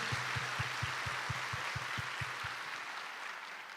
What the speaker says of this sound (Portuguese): Eu aplaudo vocês